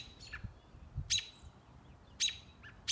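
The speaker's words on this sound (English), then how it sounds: "Oh, a bird on the fence?" A small bird perched on a fence gives three short, high chirps spaced about a second apart, faint and somewhat distant over a low outdoor background murmur.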